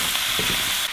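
Chicken bones for Japanese ramen broth sizzle and fry steadily in a pan, a continuous close crackle with faint stirring scrapes through the short stretch, no talking.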